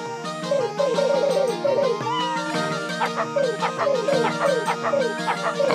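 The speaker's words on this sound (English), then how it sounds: "we got like freaking dog barks, cats meowing" Repeated cat meows in quick succession from the game Suikoden, followed by a series of short, sharp dog barks, all loud and close with no talking.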